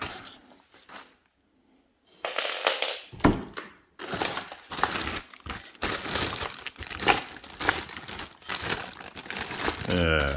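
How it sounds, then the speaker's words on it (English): A plastic bag is torn and ripped apart while unboxing a Makita 18V LXT cordless line trimmer, giving a burst of loud crinkling and tearing close up, with a person talking. "This bag is not open. Only one you have to rip apart, apparently."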